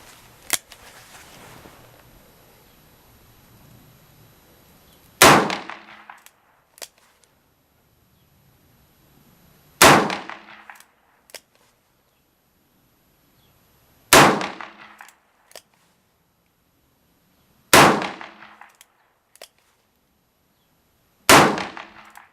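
A Ruger GP100 revolver fires .357 Magnum rounds at a range target seven yards away: five sharp, loud, ringing shots spaced roughly four seconds apart, each followed by a quick decay into near silence.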